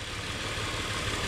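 Steady car engine drone captured from inside the cabin, a continuous low idle-like rumble with even broadband hum and no distinct changes.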